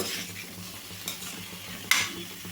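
Moong dal being stirred into a banana stem curry in a pan, giving a soft continuous stirring rustle with a light sizzle and one sharper utensil scrape near the end, close up and alone.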